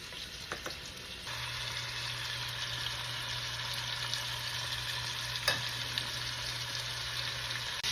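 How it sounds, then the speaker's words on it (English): Short ribs sear in a hot pan for a bolognese, giving a steady, close sizzle and frying hiss that holds throughout after a brief start, with a faint low hum beneath and one small clatter midway. "Just a nice brown sear."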